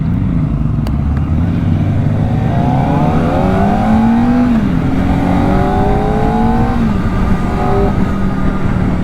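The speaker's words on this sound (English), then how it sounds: "it's a little 399cc engine" A 2024 Kawasaki Ninja ZX-4R's 399cc engine revs hard, its loud, close tone climbing and falling through several quick rises and drops over a continuous rumble.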